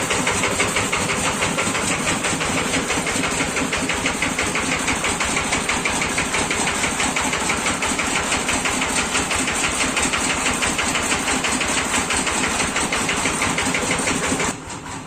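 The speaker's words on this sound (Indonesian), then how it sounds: "Dan mesin yang ini tidak langsam guys." A heavy diesel tractor engine that does not idle smoothly runs loud and close for the whole stretch, its chugging rhythm rough and slightly uneven, cutting off abruptly at the end.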